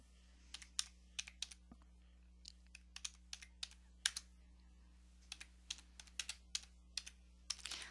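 Computer keyboard typing during a Skype call, quick irregular clusters of light key clicks with short pauses, close and fairly quiet over a steady low hum.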